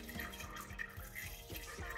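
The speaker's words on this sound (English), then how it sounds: "I'm spilling a little bit on that one. That's why it sounds like it's pouring everywhere." Coolant splashing and pouring through a funnel into a 1983 Toyota Tercel's cooling system during a hose and thermostat job, spilling a little; a steady close liquid pour with irregular splashy drips throughout.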